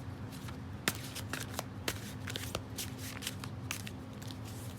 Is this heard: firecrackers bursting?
no